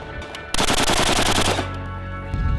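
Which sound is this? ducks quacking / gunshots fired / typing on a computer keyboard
gunshots fired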